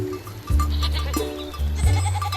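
A cartoonish goat in a mobile farm game bleats in short wavering calls, two or three in quick succession over a bright, busy game soundtrack with light chiming effects.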